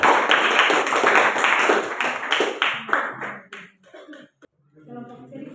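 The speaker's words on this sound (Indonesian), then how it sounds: "Karena sudah mengerti, jadi kita berikan tepuk tangan." A class of junior high students claps together in a classroom at SMPN 2 Tanah Merah, Boven Digoel, Papua. The dense, fast applause lasts a few seconds, then thins to scattered claps before a voice speaks.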